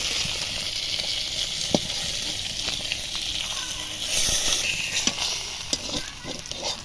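Hot oil sizzles and spits steadily as fish fry in a wok, with occasional sharp pops and stirring clatter over the continuous hiss.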